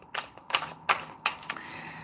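Tarot cards being shuffled by hand during a reading, several quick crisp riffling bursts at an uneven rhythm, close and fairly quiet, with no voice.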